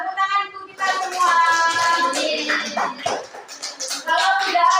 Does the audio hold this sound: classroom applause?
yes